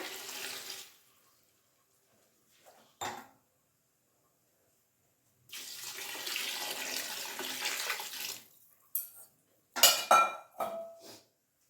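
Water splashes and clatters into a metal pot for cooking rice in a few separate bursts, with quiet pauses between them and no talking.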